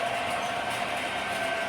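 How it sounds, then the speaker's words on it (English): An MTH HO gauge model train with a Trump theme runs on track in a steady, faint rolling rumble with a light whine. "HO gauge Trump train."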